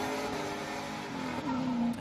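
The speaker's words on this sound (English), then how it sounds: "Van Kirk stomping the throttle all the way past that final clip" A Formula Drift PRO2 drift car at the 2017 Atlanta round runs at full throttle, its engine snarling loud and steady for about two seconds, with the pitch dipping then climbing into a sharp, rising rev toward the end. No one speaks.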